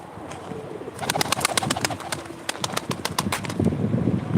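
Pigeons coo and call at a live pigeon auction in Ankara, a busy chorus of repeated bird calls with occasional wing flaps, fairly close and steady throughout.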